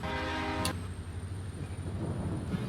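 A train horn gives one short, bright toot near the start, then a low rumble continues under a faint whine.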